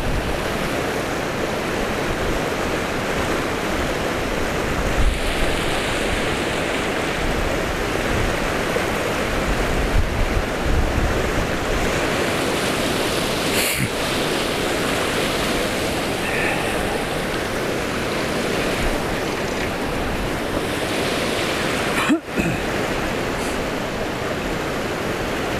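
Strong wind gusting beside the river rapids at Langinkoski on the Kymi River, a steady loud broadband roar of rushing water and wind filling the whole stretch with brief buffets and no voices.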